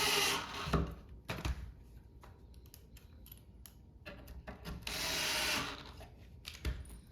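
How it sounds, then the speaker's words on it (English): Screws are driven by hand into a shelf of a farmhouse shoe bench, giving repeated clicking ratchet-like turns and scraping knocks, with a few louder bursts, close and without talk. "Install the screws."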